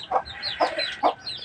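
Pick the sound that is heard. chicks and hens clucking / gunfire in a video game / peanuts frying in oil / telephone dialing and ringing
chicks and hens clucking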